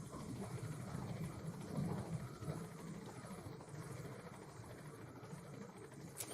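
A helicopter in Metal Gear Solid V: The Phantom Pain, a steady low rotor and engine drone held at an even level throughout, with no voice.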